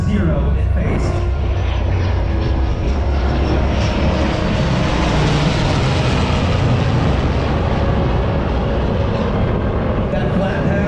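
A legacy F/A-18 jet makes a low flat pass, giving a loud, broad roar that rises and fills the air before slowly easing off as it passes by.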